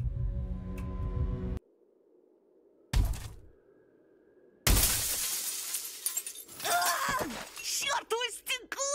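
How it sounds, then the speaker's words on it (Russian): Window glass shatters in a video game with a loud, bright crash and tinkling debris, after a deep hum and a brief silence, followed by pained groans and heavy breathing. "Если разобью окно, то может получится сбежать? Только это будет громко."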